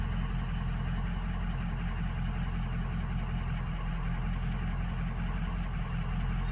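A truck engine runs at a steady idle under construction, close and loud, with a constant low rumble and no talking.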